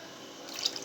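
Water poured from a measuring glass into baghrir semolina batter, a soft, close splash and trickle that builds briefly toward the end of a very short moment.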